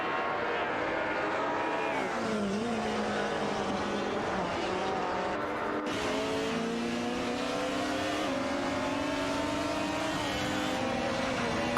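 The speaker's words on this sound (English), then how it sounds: "The three cars are tightly packed, exchanging positions as they race through the corners" Several race cars in an AI-driven racing video game engine note, packed tightly together through corners, with continuous overlapping engine whine rising and falling in pitch as they shift and accelerate, loud and steady throughout.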